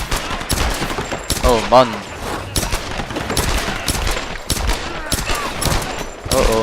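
Rapid gunfire bursts and single shots ring out in the Tomb Raider video game, loud and close, repeating through several seconds while someone talks and exclaims over the shooting.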